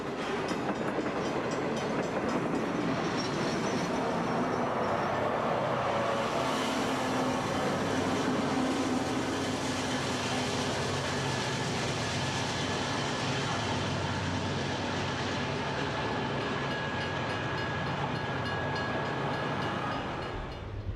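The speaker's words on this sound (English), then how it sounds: "A westbound freight with a Union Pacific unit and a CSX unit is at the west end of Nathrop" A westbound freight train led by a Union Pacific locomotive and a CSX locomotive rolls through Nathrop, Colorado: a loud, continuous rumble of engines and wheels with rail clatter, steady throughout.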